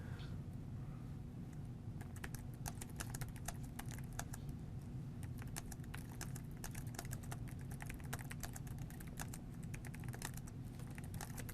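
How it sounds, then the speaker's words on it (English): Rapid typing on a computer keyboard, keys clicking in quick irregular bursts over a low steady hum, close and continuous. "in the midst of typing this email"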